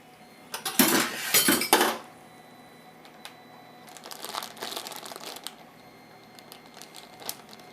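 Tapa ingredients and marinade going into a plastic bag for tapang Taal, with loud crinkling and rustling bursts early on, then quieter scattered crackles and handling noises.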